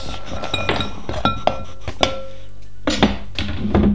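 Ingredients for Krispie cakes are dropped into a mixing bowl in a kitchen, giving sharp clinks and clatters of glass and utensils at irregular moments, close by with quiet pauses between.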